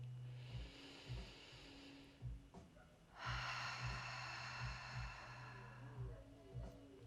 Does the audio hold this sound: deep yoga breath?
yes